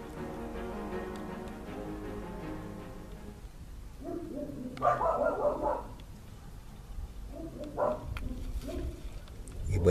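Dog barking at night outdoors, a run of yips and barks coming in irregular bursts, moderately close against a quiet background.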